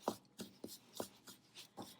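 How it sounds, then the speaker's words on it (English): A spoon works through thick salt dough in a steady rhythm of soft scraping strokes, about six or seven of them, faint and close with no talk. "The next thing I'll do is take my spoon and begin mixing."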